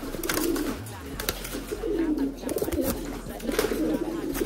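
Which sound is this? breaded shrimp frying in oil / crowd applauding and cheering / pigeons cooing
pigeons cooing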